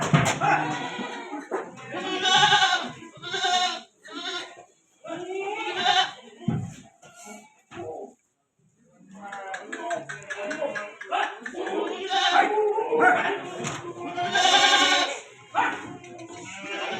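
Rajasthan goats kept for live-weight sale bleat loudly and close by, a run of repeated wavering calls with short pauses between them.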